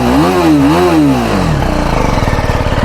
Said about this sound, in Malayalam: ഇതാണ് വണ്ടിയുടെ എക്സോസ് നോട്ടും അതിനൊക്കെ വരുന്നത്.